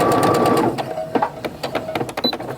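A home sewing machine stitching a quilted mug rug, a close, loud motor whir that runs steadily and then breaks into short stop-start bursts of stitching.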